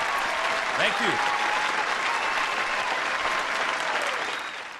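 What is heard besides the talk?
applause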